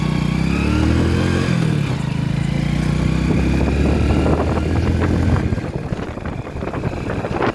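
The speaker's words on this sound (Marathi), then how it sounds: "आपल्या बाईकची हे स्टार्ट केलेली आहे" A motorcycle engine running close by, a loud steady idling rumble that turns rougher and more broken toward the end as the bike is handled, with no talk over it.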